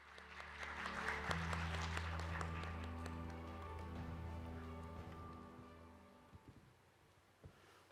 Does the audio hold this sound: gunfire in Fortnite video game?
no